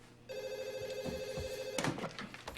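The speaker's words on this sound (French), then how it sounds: "Ça sonne." A telephone bell rings once, a steady electronic trill of about one and a half seconds, fairly faint and close, with a brief thump after it and no voices.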